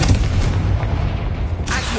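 Booming blast for the Confringo blasting spell, a dense low rumble sustained across two seconds with a sharp crackling burst near the end, loud and alone without speech.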